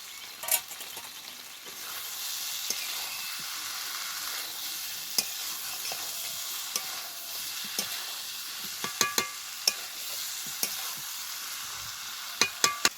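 Pointed gourd, potato and prawns are stirred and fried in spice paste, a steady sizzle with scattered sharp scrapes and taps of the spatula that grow more frequent toward the end, with no voices.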